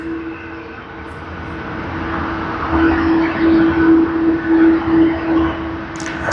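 Asiana Airlines Boeing 777-200 arriving at Sydney Airport, a broad steady jet roar with a droning engine tone that swells midway, heard from a distance.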